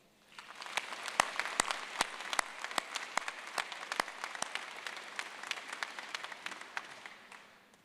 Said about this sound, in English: let's show our thanks with a round of applause